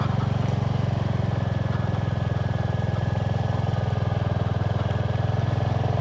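A Royal Enfield 350 HNTR on road tyres climbs a slippery off-road track, its single-cylinder engine thumping steadily and loud at a low, even pace throughout.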